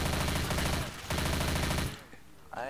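Rapid automatic fire from a shoulder-mounted turret in Left 4 Dead 2, two loud sustained bursts broken by a brief pause, then quieter game sounds with a voice at the end.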